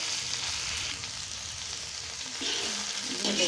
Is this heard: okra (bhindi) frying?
yes